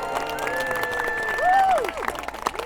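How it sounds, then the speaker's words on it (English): Spectators at a castle joust cheer and clap for the English team, a mid-level swell of crowd noise with shouts and whoops peaking briefly midway. "please give a big cheer for the English team with 27 points"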